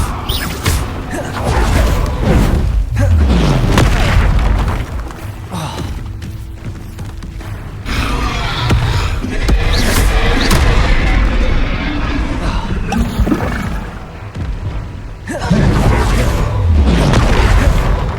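Spell-casting in the Hogwarts Legacy video game as Expelliarmus is cast amid other combat spells, giving loud booming impacts and crackling bursts that recur across a sustained, dense battle soundscape.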